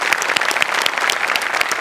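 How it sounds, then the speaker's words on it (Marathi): A studio audience at a Marathi comedy show bursts into dense, steady applause, close and loud, with many hands clapping together and no talking over it. "जोरदार टाळ्या."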